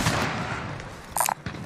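Gunfire in the video game Warzone: a dense, rattling spread of shots fills the scene, broken near the end by a few sharper, louder cracks close by.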